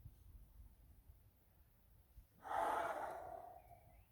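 A deep inhalation during a gentle seated exercise class, one soft breath drawn in for about a second and a half after a quiet pause, close and airy over low room hum.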